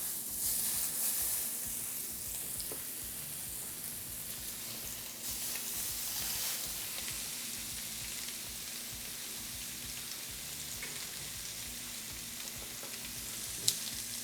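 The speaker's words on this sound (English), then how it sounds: "I'm gonna actually sear it on the cut side" A grouper skeleton sears cut side down in a hot pan, giving a continuous close sizzle and crackle that holds steady throughout, with faint occasional pops and no voices.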